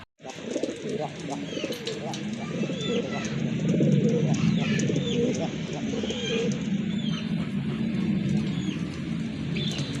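Rajgolla pigeons with red markings coo in a loft, with soft, repeated low coos layered densely and continuously throughout, along with occasional chirps from other birds.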